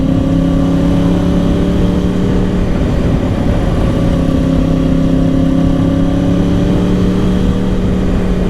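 A 2010 Yamaha R1 1000cc sport bike cruising along hums in a loud, steady engine drone with smooth, even tones and rushing wind noise, close up and unbroken, without talk.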